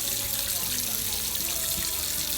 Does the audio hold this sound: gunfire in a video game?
no